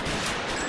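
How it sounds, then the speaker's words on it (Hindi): A sharp, loud burst of pistol gunfire at a public meeting fills a brief moment, harsh and close. "गोली चला दी"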